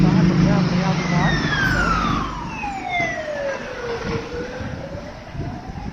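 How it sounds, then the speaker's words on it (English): Two ambulances pass on the road with sirens turned down, a wailing tone sweeping downward as they go by, moderately loud over rumbling traffic noise. "Those two ambulances that went past, they normally have their siren on much louder than that"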